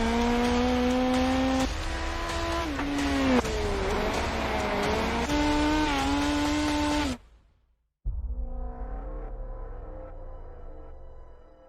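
Midget race cars in the iRacing sim at Daytona, their engines whining loudly at high revs with shifts and dips, then a sudden brief drop to silence before the engine drone picks up again more faintly.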